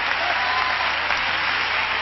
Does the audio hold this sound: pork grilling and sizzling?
no